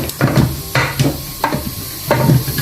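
Spatula stirring a hot beef and lentil resha kabab mixture in a pan, four rhythmic scraping strokes with a soft sizzle underneath, close and fairly loud, no voices.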